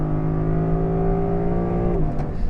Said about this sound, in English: you're getting this incredible 5-liter V8